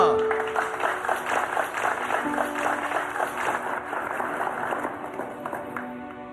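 A show audience gives loud applause to welcome a singer on stage, dense rapid clapping that runs steadily for several seconds while music tones sound beneath it.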